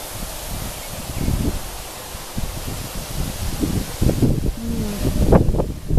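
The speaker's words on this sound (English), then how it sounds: "I bet you can hear the wind." Wind blowing through a garden of hostas and spirea on a morning, a steady broadband rush with gusty low rumbles and occasional leaf rustles, no talking.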